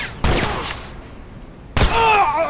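Gunfire in The Last of Us Part 2 video game: two loud, sharp shots about a second and a half apart, each ringing out with a brief echoing tail, with no talk over them.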